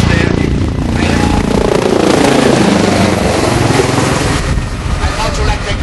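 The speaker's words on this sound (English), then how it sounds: "now we have the helicopter coming in there" A helicopter flies in over a lifeboat service plaque blessing in Bundoran, its loud, steady rotor and engine roar filling the whole stretch and easing slightly toward the end.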